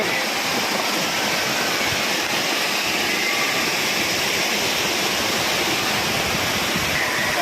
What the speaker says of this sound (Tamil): இன்றைக்கி தண்ணி நார்மலாக விழுந்துகிட்ருக்கு